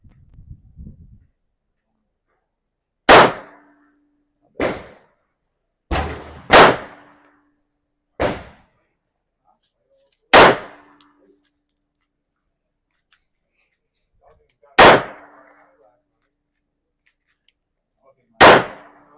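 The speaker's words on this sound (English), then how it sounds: "let's shoot this magazine" Handgun shots fired one magazine at a time on an outdoor range during a beginner defensive shooting class: eight sharp, loud single reports at uneven intervals of one to four seconds, with quiet gaps between.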